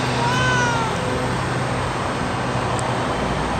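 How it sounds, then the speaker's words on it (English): A cat meows near traffic, with a single rising and falling meow at the start over steady road noise that continues to the end. "Here, kitty, kitty, kitty, kitty, kitty, kitty, kitty!"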